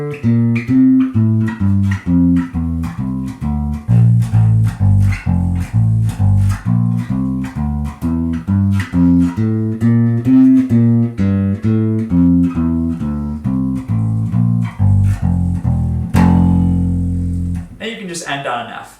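Bass guitar plays an advanced scale exercise as a long run of distinct plucked notes in steady rhythm, loud and close, ending on a sustained note followed by a brief trailing sound.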